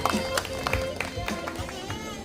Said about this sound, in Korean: 크게 박수로서 환영해 주셨으면 감사하겠습니다.